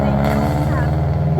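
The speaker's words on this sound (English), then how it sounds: "Boy, that's a loud car." A loud car passes on a street outside a courthouse, its deep engine rumble steady and close throughout, with voices nearby.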